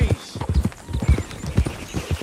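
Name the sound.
Tennessee Walker horse hooves, from video game Red Dead Redemption 2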